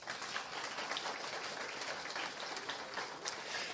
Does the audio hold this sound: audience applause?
yes